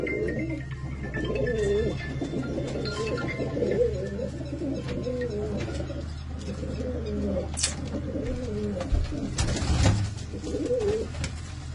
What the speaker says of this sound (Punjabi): ਇਹ ਅੱਜ ਬਾਈ ਦੇ ਕਬੂਤਰ ਤਾਂ ਆਪਾਂ ਦਿਖਾ ਰਹੇ ਹਾਂ